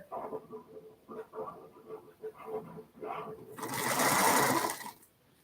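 A domestic sewing machine stitches fabric in short, rhythmic runs near the microphone, ending in a longer, louder whirring burst before it stops.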